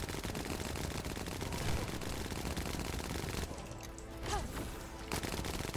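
Sustained automatic gunfire emptying a magazine in the video game The First Descendant, a dense continuous rattle of shots that briefly drops out near the end before resuming.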